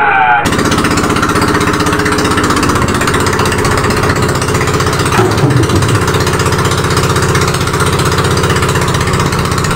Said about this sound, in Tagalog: paandarin ko muna yung water pump namin.